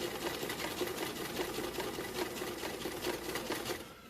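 Sewing machine running steadily and close, stitching a pleated fabric face mask with a fast even mechanical chatter that slows slightly at the end, no talking.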